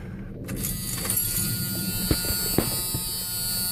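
A 1984 Ford F-250 with a 6.9L diesel engine cranks and settles into a steady idle, a low rumbling drone with a high whine on top and a couple of sharp knocks, close and continuous without speech.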